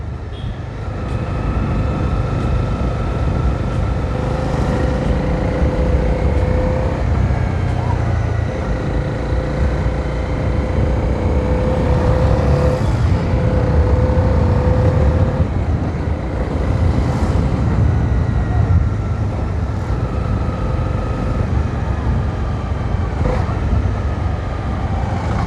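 Motorcycle engine held at low revs while the rider slips a half-engaged clutch to avoid stalling, a steady loud rumble with wind buffeting and slight pitch swells throughout.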